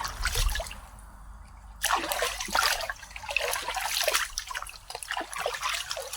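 Water splashing and trickling as dogs are bathed outdoors on a hot afternoon, with a continuous wet pouring and sloshing, close and fairly loud, intensifying after a brief quieter stretch.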